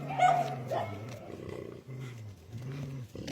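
A powerful wolf, the pack's alpha, gives deep, rumbling growls and snarls, close and loud, in several sustained bursts with brief pauses between them.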